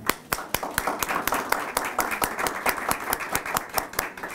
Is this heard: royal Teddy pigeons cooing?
no